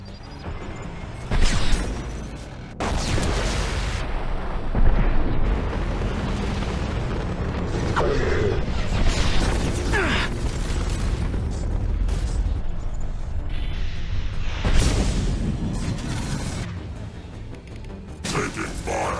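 Loud booming blasts from an explosion in the video game Mass Effect 2, several heavy bursts rolling over a dense wash of game noise and combat sounds, with voices talking throughout.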